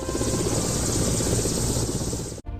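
Rescue helicopter during a flood in Madhya Pradesh, steady rotor and engine drone held at a constant loud level, then cut off abruptly near the end; no speech.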